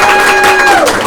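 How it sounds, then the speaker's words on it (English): A studio audience gives a short, loud round of applause for a doctor guest on an interview show, with a sustained tonal sound running underneath the clapping. "Give her a round of applause."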